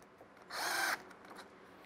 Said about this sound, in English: there's a bit that helps me drive it in